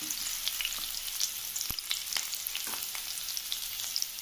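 Green chillies and curry leaves crackle in hot ghee, a bright close sizzle dotted with small pops and a few spatula taps, no voices.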